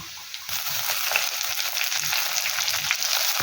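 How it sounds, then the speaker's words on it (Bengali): Chopped taro leaves dropped into hot oil with well-browned onions, giving a loud, continuous sizzle and crackle with light stirring scrapes, close up and without talk. "এবার এর মধ্যে দেব আগে থেকে কুচিয়ে রাখা কচু পাতাটা"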